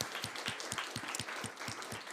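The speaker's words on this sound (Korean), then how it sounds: "하나님께 영광의 박수 돌리겠습니다." A church congregation applauding at a Christmas Day service, giving fairly faint, steady clapping with a loose rhythm of individual claps throughout.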